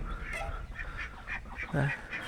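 Ducks quack a few times, close by, amid outdoor background noise and some faint voices.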